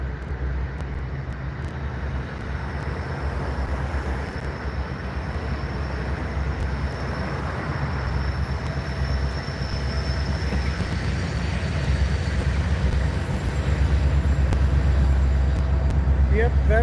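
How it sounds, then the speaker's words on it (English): A heavy double-stack container freight train rumbles past close by, a steady low roar with rolling wheel noise that grows slightly louder toward the end. "that is a stack train coming in from Norfolk, bound for Chicago"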